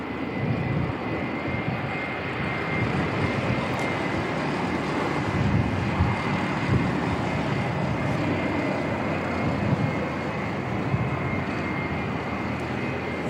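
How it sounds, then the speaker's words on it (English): Loud, steady roar of a Royal New Zealand Air Force Boeing 757's engines at takeoff power at Christchurch Airport, a continuous broadband rumble with a high whine, sustained throughout without voices. "the Royal New Zealand Air Force 757 heading out as well"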